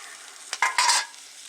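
Spam and onions frying in a pan on a stainless steel rocket stove, a brief burst of scraping and clattering stirs over a steady close sizzle, with no voices.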